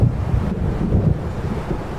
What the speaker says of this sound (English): Now there was nothing but waves.